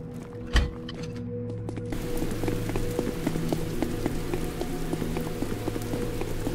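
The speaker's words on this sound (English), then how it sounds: "It's raining, it's pouring" Steady rain pours in a video game, a dense, even patter of drops that swells slightly after a sharp knock near the start, with faint tonal game sounds running underneath and no talk.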